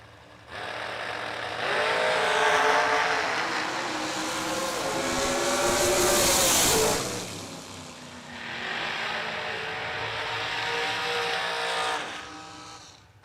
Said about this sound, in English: Heads up drag race